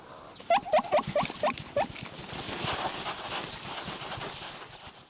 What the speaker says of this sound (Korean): 팀은 미어캣의 최대 적인 독수리의 접근을 알리는 경고음을 울립니다.